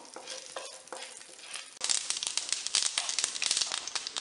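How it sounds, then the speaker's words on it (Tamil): Mustard seeds and urad dal splutter in hot oil for a tempering, a few scattered pops at first, then a sudden burst of dense, loud crackling and sizzling right up close. "கடுகு, உளுந்தம்பருப்பு, கடுகு பொரியிட்டோம்."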